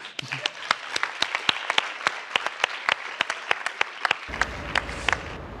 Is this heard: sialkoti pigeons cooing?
no